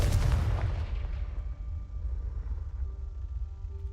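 A Confringo fire spell blast in Hogwarts Legacy erupts in one loud, sharp explosive boom that decays into a rumbling tail over several seconds.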